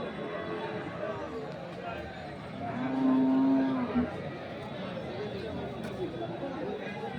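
At the Khochabari cattle market, a dairy cow of an improved breed, sold with her calf, gives one low, sustained moo in mid-clip, heard against a busy background of people talking.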